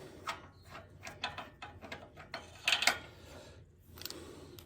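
A socket wrench ratchets a spark plug loose from an 18hp Kohler Courage SV541 engine, with a series of quiet, close clicking strokes in an irregular rhythm and a brief louder metallic rattle near the end.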